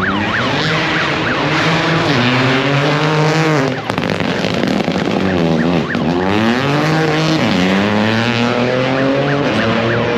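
Formula race car engines screaming at full revs through a street circuit in an industrial zone, several cars passing close with rising and falling pitch sweeps, loud and continuous with no talk.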